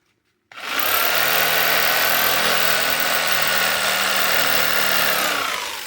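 A power drill with a wood bit bores through the Kevlar-reinforced sidewall of an old tire. The loud, steady whine starts abruptly and holds for about five seconds with no talk.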